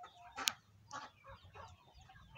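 A very large farmyard chicken in Davao clucks in several short, separate bursts with faint background noise between them and no voices.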